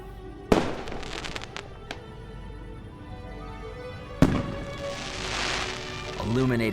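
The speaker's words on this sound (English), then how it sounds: "and lit the firework." Fireworks from the video game Foolish Mortals burst with two sharp, loud cracks, each followed by crackling and sizzling sparkle that trails off, with a hissing shower after the second blast.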